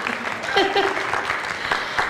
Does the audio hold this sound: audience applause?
yes